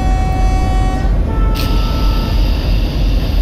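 Electric locomotive in WCR Train Simulator starting up on a night journey of the Mumbai Garib Rath Express: a steady loud rumbling drone with sustained tonal whine, and a brief burst of hiss partway through.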